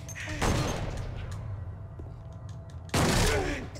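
Two heavy shotgun blasts in the horror video game Silent Hill 2, each a loud booming discharge with a rumbling tail, spaced about two and a half seconds apart over a low ambient drone.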